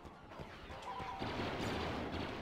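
Turret gunfire in Star Wars Battlefront 2, a faint scatter of shots that builds into a louder, dense burst of rapid fire and blasts in the second half.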